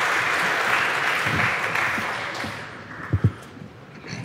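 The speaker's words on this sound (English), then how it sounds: "a very warm round of applause" A conference audience applauds a panel on the war in Ukraine and cyber warfare, steady dense clapping across the room that thins toward the end, with a few sharp close claps near the finish.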